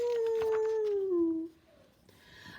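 A voice imitates a dog howling loudly, holding one long drawn-out note that slides gradually downward before breaking off, followed by quiet.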